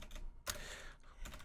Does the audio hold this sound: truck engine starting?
no